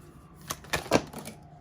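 A tarot card deck is shuffled, giving several quick crisp riffling snaps in short succession, close and fairly quiet with no talk over them.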